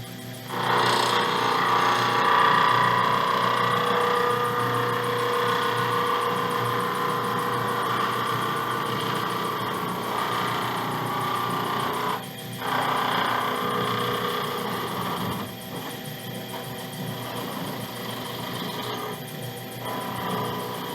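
Wood lathe spinning stock, a steady loud mechanical whir and hum that runs continuously, with a slight dip in level partway through.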